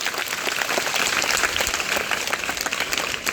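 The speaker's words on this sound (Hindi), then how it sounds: "ताली बजाओ इसके लिए।" Audience applause at a workshop on juvenile and cyber crime, steady dense clapping that holds at an even level throughout with no talk.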